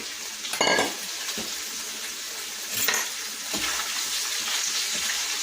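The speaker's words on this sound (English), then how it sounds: "next I'm going to add some cabbage. And I just sliced it up, gave it a good rinse, and in it goes" Freshly rinsed, sliced cabbage tossed into a hot frying pan, producing a loud burst of sizzle with clattering stirs, then a steady crackling fry that stays strong afterward.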